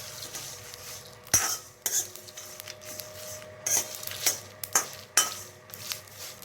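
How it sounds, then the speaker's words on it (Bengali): Whole cumin and fenugreek seeds dry-roast in a pan for mango oil pickle, with a spoon stirring and scraping against the metal in sharp, irregular clinks over a faint background hum. "এবার সব কিছুকে আমি হালকা টেলে নেব।"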